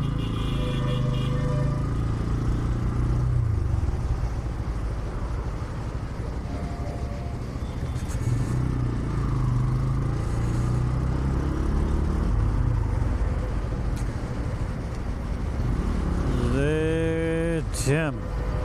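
Heavy jammed traffic of cars and motorcycles on a flyover, a steady dense engine rumble throughout with a horn-like tonal blast rising near the end, heard close around the listener.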